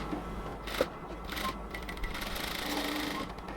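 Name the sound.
sewing machine stitching a cotton kameez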